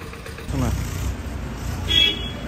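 A car engine idles at low volume in a shaded temple parking lot in Nashik, a steady low rumble with a brief brighter tone near the end, while voices talk over it.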